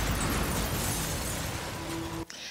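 An apartment explosion staged for a Hong Kong film scene, a loud sustained roaring blast of dense broadband noise lasting about two seconds before cutting off abruptly into a brief quieter tail.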